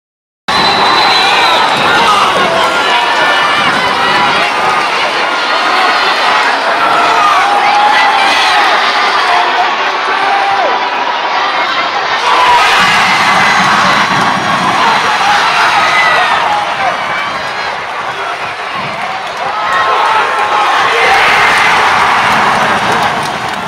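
Ice hockey arena crowd in the British EIHL roars during an on-ice fight, a loud sustained wash of cheering and shouting that swells and dips over time, with faint commentary beneath.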